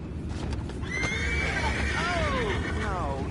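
A horse in Red Dead Redemption 2 lets out a clear, loud whinny that rises and falls over about two seconds, against steady outdoor game ambience and the faint clop of hooves.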